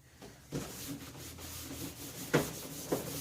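Cloth rubbing lacquer thinner over a stained plastic hood of a John Deere L100 mower, soft scrubbing strokes with a few sharper swipes, quiet and close.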